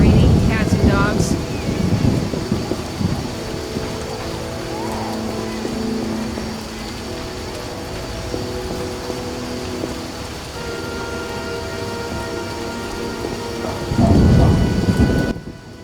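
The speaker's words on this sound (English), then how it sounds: "Raining cats and dogs." Heavy rain pours steadily on night streets in the video game The Witcher while deep thunder rumbles loudly at the start and again near the end, with a faint tone humming underneath.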